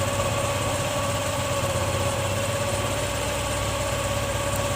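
A small carbureted engine held at its maximum RPM during carburetor tuning, a steady, loud, even drone with a constant buzzing hum and no change in pitch, no voices over it.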